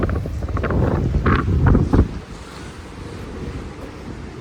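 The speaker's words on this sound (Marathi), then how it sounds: "असलं डेंजर आहे ना, डेंजर वारं. डेंजर वारं." Strong gusty wind buffets the microphone outdoors in Rotterdam or The Hague, loud low rumbling bursts that ease into a steadier blustery roar.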